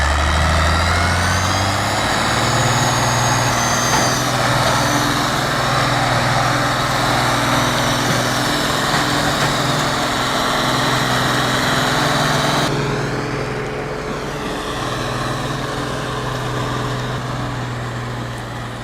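An Ursus 1614 tractor engine labors under a heavy log load, a steady loud drone that holds for the whole stretch, then eases slightly in pitch and strength near the end, close by with no talk.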